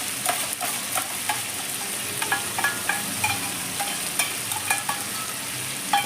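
Coriander leaf and capsicum paste drops into spices frying in a pan, giving a steady close sizzle with scattered crackles and stirring scrapes throughout, no voices.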